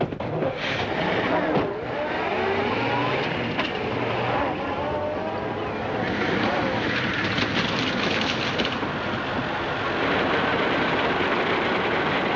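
An Earthworm tractor ploughs through a swamp in a 1930s setting, its engine rumbling steadily and loudly for the whole stretch, with some squeaks and clatter on top.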